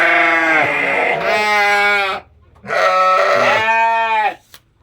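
Two long, loud, close bleats from Sakub sheep on a farm in Banyumas, Central Java, each a wavering harmonic call with a short pause between them.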